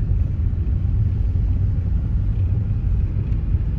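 1999 VW Eurovan VR6 engine while driving, a steady low rumble of the motor and road noise inside the van, constant and fairly loud with no talk.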